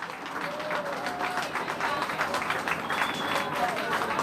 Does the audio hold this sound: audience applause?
yes